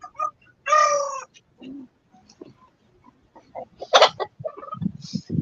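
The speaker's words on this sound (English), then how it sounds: "My chickens are too vocal" Backyard chickens cluck and squawk in scattered bursts, with a few louder calls standing out among softer murmuring clucks, close by and without talk.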